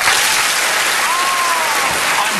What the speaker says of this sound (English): Did they clap when I said boxer?